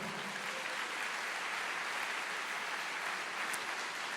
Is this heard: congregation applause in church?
yes